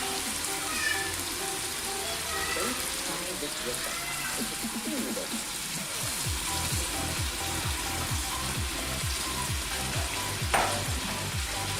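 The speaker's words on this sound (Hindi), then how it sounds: "अभी हम दही ऐड करने लगे हैं" Full-cream yogurt goes into sizzling chicken karahi, setting off a loud, steady frying hiss with scraping stirs partway through and a ladle clink near the end. A voice talks faintly under the sizzle.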